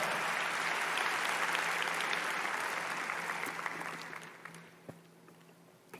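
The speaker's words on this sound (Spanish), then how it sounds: "Alguien puede darle un fuerte aplauso a nuestro Dios por esto." A church congregation breaks into sustained applause for God during a sermon, a dense wash of clapping that holds steady, then gradually thins and fades toward the end.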